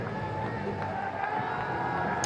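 Stadium crowd at a Bangladesh versus New Zealand cricket match cheering steadily through a broadband roar, loud and continuous over the whole moment.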